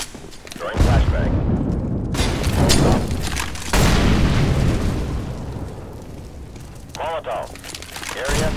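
Grenade blasts in the video game CS:GO: several heavy, booming bursts a second or two apart, loud and close, mixed with other game noise and voices.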